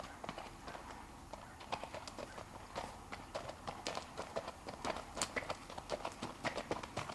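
Quarter horse hooves clip-clop in a slow, steady walking rhythm, close and fairly quiet, with faint background noise.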